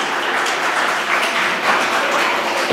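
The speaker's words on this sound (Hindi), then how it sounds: "तो एक बार फिर हो जाए तालियां।" A crowd applauds at a nukkad natak street theatre competition, broadband clapping sustained evenly for nearly three seconds, fairly loud and unbroken, with no voices on top.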